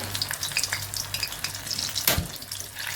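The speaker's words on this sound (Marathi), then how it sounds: "आपलं तेल तापलेलं आहे, त्यामध्ये आपण केलेले रोल सोडूया." Green pea (matar) rolls deep-fry in hot oil over medium heat, a steady close sizzle with crackling pops and one brief louder splash midway, with no talking.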